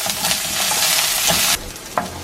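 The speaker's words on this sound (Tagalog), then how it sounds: "Now, igigisa natin ang kamatis." Tomatoes and garlic sauté in a hot pan with a loud bright sizzle and stirring scrapes, the sizzle suddenly dropping after a moment, followed by a sharp clink.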